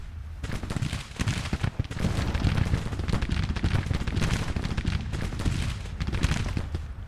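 Dense gunfire from a video game battle set in an American Civil War Union campaign, with sustained overlapping volleys and rattling shots rolling continuously, loud and close, with no clear voices.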